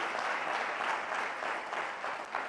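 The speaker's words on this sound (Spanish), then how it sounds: "vamos a dar una ofrenda de palmas" A church congregation applauds together in a steady, dense round of clapping that lasts a couple of seconds, with no voices over it.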